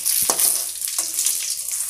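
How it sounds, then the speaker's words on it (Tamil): Garlic cloves sautéing in hot oil with chillies, mustard seeds, urad dal and cumin in a pan, a close, bright crackling sizzle with a couple of stirring scrapes. "2 பூண்டு போட்டு வதக்காச்சு"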